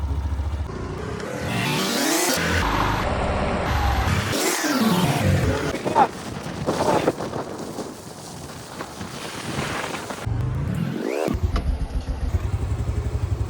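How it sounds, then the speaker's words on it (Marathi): A Hero motorcycle idles after a cold start, its engine running with a steady close rumble. Heavy wind buffeting and several passing whooshes partly mask it, and nobody speaks. "ॲक्च्युली आपण ही गाडी कोल्ड स्टार्ट केलेली आहे."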